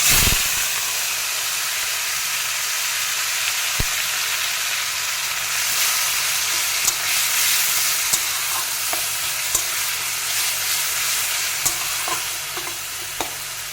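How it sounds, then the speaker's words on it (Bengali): Onions are added to hot oil already holding whole cumin, bay leaf, cinnamon, cardamom and cloves for a magur fish curry, and they fry with a steady, loud sizzle and hiss. Occasional sharp clicks and stirring scrapes come through. "এখন দিয়ে দেব পেঁয়াজটা"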